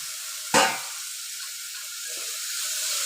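Chopped tomato, potato and carrot drop into hot oil in a vegetable biryani pan, giving one sudden loud burst of sizzle that fades into a steady, quieter hiss.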